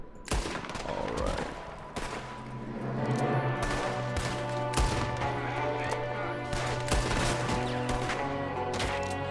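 Gunfire in the Red Dead Redemption 2 video game on PC: a rapid volley of sharp shots, then further scattered bangs over steady game music, with a voice speaking briefly.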